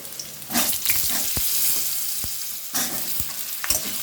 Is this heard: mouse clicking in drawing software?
no